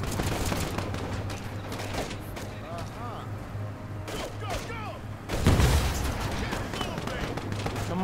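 Rapid gunfire in the World War II real-time strategy game War Alert WWII, a dense run of overlapping shots and booms under a steady hum, with a Thai-speaking voice talking over the battle and a heavier burst near the end.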